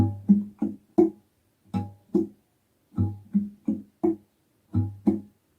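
Acoustic guitar fingerpicking for the bridge and outro of a song, clear plucked notes in a repeating pattern of short groups separated by brief pauses, close and moderately quiet.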